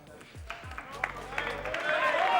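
A crowd at a 1996 Mosconi Cup pool match breaks into applause and scattered clapping that swells toward the end, with a commentator talking over it.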